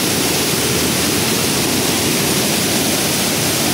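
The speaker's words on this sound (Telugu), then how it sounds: "ఆ మొత్తం అయితే మెట్ల నుంచి నీరు అలాగ వెళ్తూనే ఉంది" A rain-flooded waterfall, Kothapalli, sends water rushing down steps in a loud, dense, unbroken roar of close, full-band white noise with no pauses.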